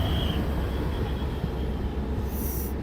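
A passenger train pulls out of Qazigund railway station in snowy Kashmir, heard from onboard as a steady, loud low rumble and rolling noise with a faint high whine, no voices.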